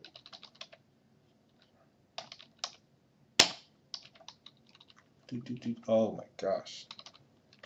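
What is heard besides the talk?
typing on a computer keyboard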